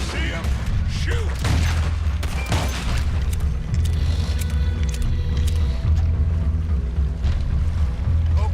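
Gunfire in Red Dead Redemption 2 booms in several heavy shots early on, over a constant rumbling, watery backdrop that continues throughout the scene.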